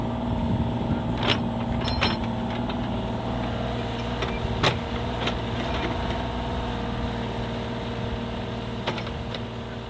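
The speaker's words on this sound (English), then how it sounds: "drive the tractor with the backhoe on it down that bridge and dig that out" Tractor with a backhoe attachment digging out a pond, its engine idling and chugging steadily at moderate distance, with occasional clanks and knocks from the digging.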